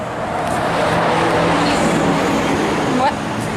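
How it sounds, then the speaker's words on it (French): Road traffic flows past in a steady, loud, broadband rush that holds from start to finish, with cars passing close by. "désolé pour le bruit, on est en plein trafic ici"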